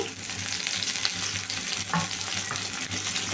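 Mustard seeds, chopped onion and curry leaves sizzle steadily in a pan for Nellore-style pappulusu, a dense continuous frying hiss with small pops and faint stirring, no voices.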